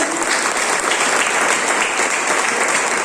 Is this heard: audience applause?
yes